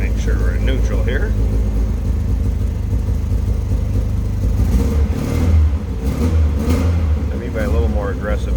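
A 1974 Triumph Spitfire 1500 engine runs in neutral, loud and close, with a deep steady rumble that swells into a couple of revving surges partway through. Someone talks over it.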